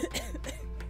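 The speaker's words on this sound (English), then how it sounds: "Cough makes you cough violently." A character in the zombie survival game Undying coughs, giving a short pair of rough, throaty coughs over a steady low hum. It is close and brief, with no talking.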